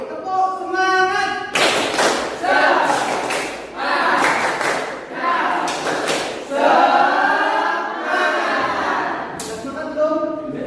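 A school class performs a rhythmic spirit clap, striking loud, sharp clap patterns in unison between chanted voices, the bursts repeating in a steady group routine.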